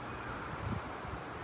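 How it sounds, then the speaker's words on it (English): A gust of wind outdoors under an unsettled sky, a brief steady rush of broadband noise buffeting the microphone, with no talk. "And of course, gusts, big gusts coming."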